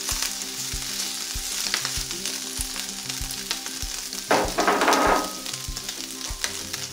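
Ham sizzles in a frying pan alongside bacon with a constant crackling fry, and a louder, fuller burst of sizzle swells midway before settling back.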